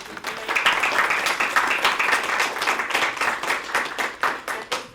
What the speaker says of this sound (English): If we can, please give them a round of applause.